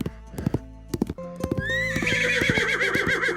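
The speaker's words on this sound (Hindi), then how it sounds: "दोनों की लड़ाई देखकर घोड़ा घबरा गया और वहां से भाग गया" A frightened horse in a lonely spot clip-clops in uneven hoofbeats, then breaks into a loud, long, wavering whinny over continued hoof thuds as it runs off.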